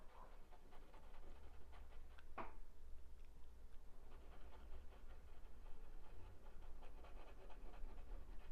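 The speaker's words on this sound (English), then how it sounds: "that dog's still going" A dog pants steadily and continuously nearby, a rhythmic wet breathing that carries on for several seconds with no talking over it.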